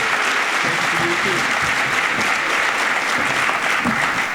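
Steady, dense applause from an audience welcoming a speaker to the stage at an awards and scholarship ceremony, continuous and even throughout with no voices on top.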